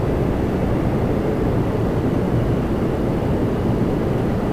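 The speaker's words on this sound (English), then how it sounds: "RJ 900 coming in." A Jazz RJ 900 regional jet, flight 5173 from Philadelphia, lands at Toronto Pearson, giving off a steady, broad roar of engine and air noise that holds at an even level throughout.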